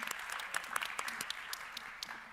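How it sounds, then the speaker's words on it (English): An audience at the 12th Abu Dhabi Strategic Debate applauds the panelists with steady, moderately loud clapping from a large crowd. "So let's applaud the wonderful panelists for their interventions."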